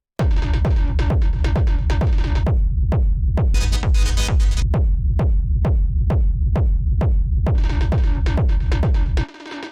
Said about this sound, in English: it's a saw wave and it's got chords